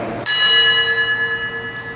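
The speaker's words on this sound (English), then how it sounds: "The bell will be rung one final time for all those that have lost their battles with PTSD" A single memorial bell at a paramedic memorial service struck once, ringing out loud and clear with a long, slowly decaying tone and shimmering overtones that hang in the air.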